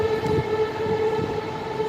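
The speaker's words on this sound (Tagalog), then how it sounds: "Ayan na, dumadaan ng MRT." An MRT train in Taiwan rolls past nearby with a sustained tonal whine and low rumbling, pulsing faintly as the cars go by, with no talk over it.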